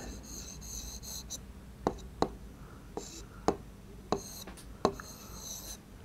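Hand-lettering Urdu words, pen scratching softly across paper in a near, steady stream, punctuated by six sharp taps from the nib as strokes begin or end.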